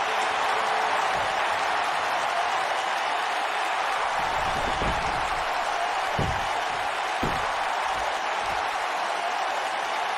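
A sold-out arena crowd in the WWE 2K19 wrestling game roars with dense, continuous cheering and applause, loud throughout, with a few heavy thuds from the ring breaking through the crowd noise.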